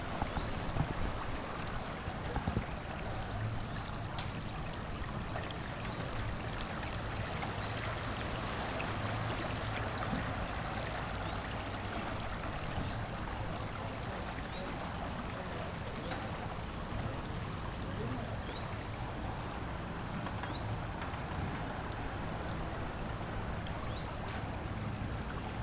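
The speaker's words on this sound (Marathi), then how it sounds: "आणि इथून तिथे वाहतोय पाणी." Floodwater flows through a property in Khuan Niang, Songkhla, Thailand, a continuous broad rushing wash heard steadily from moderate distance, fairly quiet, with a few faint high chirps over it and no speech.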